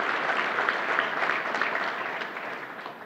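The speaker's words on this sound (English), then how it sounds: "Please give them a round of applause for their leadership." Steady applause from an audience at an NBA All-Star 2023 press conference in Salt Lake City, a dense even patter of clapping that holds for about three seconds and eases slightly toward the end.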